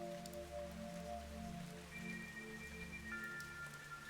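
Steady soft rain falls in the Fantasian Neo Dimension game outside a palace with smooth white walls, a quiet continuous patter with gentle music tones over it and no voices.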